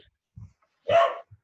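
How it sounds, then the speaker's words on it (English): A single sharp dog bark indoors, short and fairly close, with a couple of faint thumps around it in an otherwise quiet room. "sorry about the dog."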